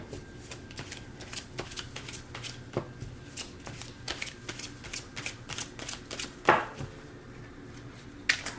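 Tarot cards shuffled and pulled close by make a quiet stream of soft flicks and riffles with an occasional sharper slap, heard alone.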